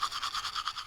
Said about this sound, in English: I let my toothbrush die.